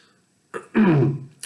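A person clears their throat once, a short rough rasp after a faint breath, close up with a quiet ending.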